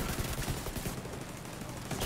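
Rapid gunfire bursts from The Division 2 beta fill the scene, a dense, steady barrage of overlapping shots with a few sharper cracks standing out near the start and end.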